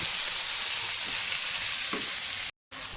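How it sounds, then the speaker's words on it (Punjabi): Onions fry for bhindi sabji in a hot pan, giving a loud, steady sizzle close by that briefly cuts out near the end before resuming. "ਦੇਖੋ ਪਿਆਜ਼ ਆਪਣੇ ਭੁੱਜ ਗਏ ਨੇ"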